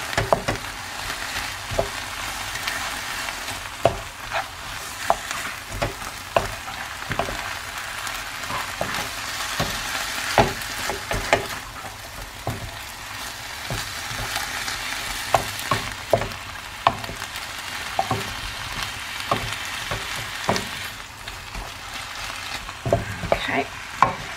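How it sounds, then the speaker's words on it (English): Mince and vegetables seasoned with pepper are stirred in a hot frying pan, giving a steady close sizzle broken by repeated scraping and clacking strokes of the spoon, with no talking. "Just give that a bit of a stir."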